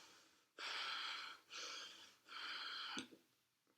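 Three heavy, forced breaths drawn high into the chest in a postpartum exercise demonstration, each a long breathy rush lasting under a second, close and fairly loud, with no talking.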